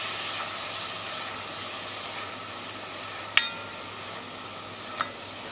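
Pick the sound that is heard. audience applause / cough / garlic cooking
garlic cooking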